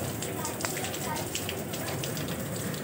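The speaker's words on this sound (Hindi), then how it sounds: "आप देख सकते हैं कितनी तेज़ बारिश हो रही है" Heavy rain pouring down during a thunderstorm, a steady dense hiss of water close by, with faint talk beneath it.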